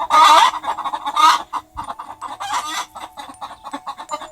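Chickens cluck and squawk in short, loud bursts, with wings fluttering among them in a busy scramble up close, used as a story sound effect.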